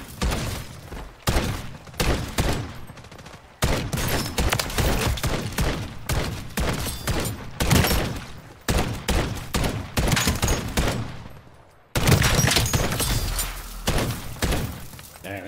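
Loud bursts of gunfire from Call of Duty Modern Warfare Zombies, in long rattling volleys separated by a few sudden pauses, with crashing impacts mixed in and no talking.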